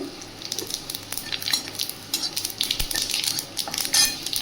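Dried red chili, a bay leaf and whole cumin sizzling in hot oil with fried raw banana and potato, crackling steadily alongside clinks of a utensil against the pan.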